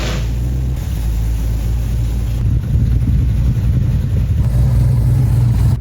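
Tuned Chevelle muscle car with a big cam on a test drive, its engine rumbling steadily at close range with a deep, continuous low growl that swells slightly partway through, no voices present.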